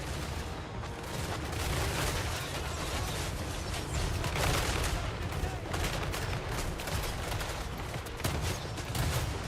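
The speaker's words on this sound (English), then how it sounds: "Lots of shooting." Dense, continuous rifle volleys from Nuln gunners in Total War: Warhammer 3 crackle and boom without pause, a loud layered battle din of overlapping shots.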